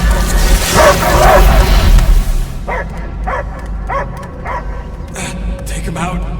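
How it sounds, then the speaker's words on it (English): A dog barks in Marvel's Guardians of the Galaxy video game. A loud, noisy rumble opens the clip, then a string of sharp, separate barks and yips comes at an uneven rhythm, fairly close. "I hear only barking."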